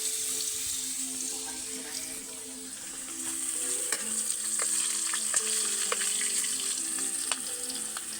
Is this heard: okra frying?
yes